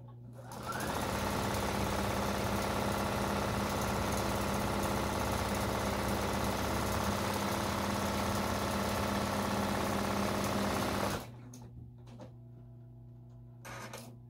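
A shaky sewing machine runs steadily at a loud, even hum through a quilting job, stitching without pause for about eleven seconds before stopping abruptly, leaving a quieter background hum.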